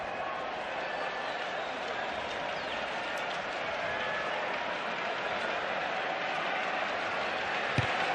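A packed rugby sevens stadium in Cape Town roars with steady cheering and applause during a South Africa versus Australia match, a broad continuous crowd wash with a brief thump near the end.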